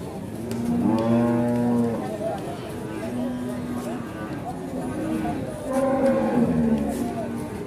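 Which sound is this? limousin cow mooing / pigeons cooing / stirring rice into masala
limousin cow mooing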